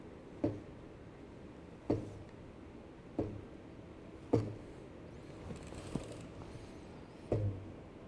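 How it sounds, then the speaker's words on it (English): A toothed drive belt on a Gotham bicycle is plucked to check its tension, giving about six soft, separate twangs with low thumps a second or so apart, faint against a quiet room. "And I'm going to strum my belt."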